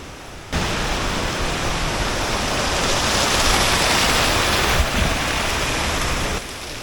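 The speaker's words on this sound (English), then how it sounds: "water is running really high here for some unknown reason" A Himalayan mountain river runs high in October, giving a loud, broad, continuous rush of water close by that swells slightly midway and stays steady without any voices.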